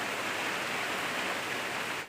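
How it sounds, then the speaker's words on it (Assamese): Steady rain pours down outdoors by a house on a windy evening, a dense, even hiss that holds unbroken for about two seconds before cutting off abruptly. "আৰু ইদি বৰষুণ দি আছে, বৰষুণ পৰি আছে"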